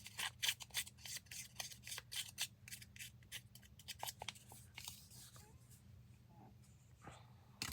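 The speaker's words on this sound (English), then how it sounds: "rough up the very straight edges of the paper here." Close, crisp paper being roughed up and torn along its straight edges for a grungy craft tag, a quick run of dry scratchy rasps and rips in bursts, then quieter rustling with a faint low hum underneath.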